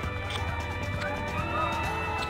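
Horses galloping in the video game Bully, with rapid hoof clatter over a busy game soundscape and some voice present.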